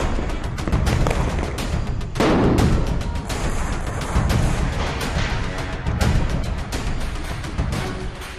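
Firecrackers bursting during Diwali celebrations in Delhi, a dense, continuous barrage of loud cracks and booms overlapping one another, with sharper blasts standing out from the rolling din.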